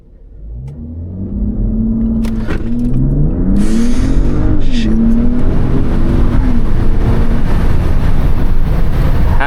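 A 2020 Mercedes-Benz GLE450 AMG-Line pulls away in sport mode, its engine note climbing and rising through the gears, loud and steady from inside the cabin with no talk.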